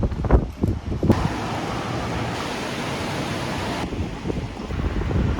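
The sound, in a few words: wind blowing on the road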